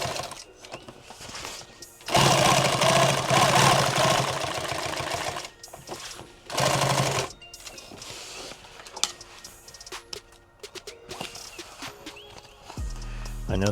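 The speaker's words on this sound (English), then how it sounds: "We're going to sew down here anyways." A sewing machine stitches 3-inch loop Velcro for a subgun micro rig build: a loud, close whirring run of several seconds, then a shorter second burst, with quieter clicks and handling noises between.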